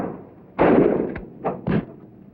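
Loud gunfire bursts ring out during gunnery shooting practice. One long blast is followed by two shorter reports, each sharp and close against a quiet background.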